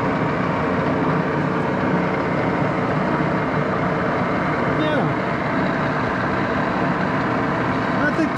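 An Axelson lathe runs in gear at about 300 RPM, giving a steady, continuous mechanical rumble and hum throughout, with no change in level.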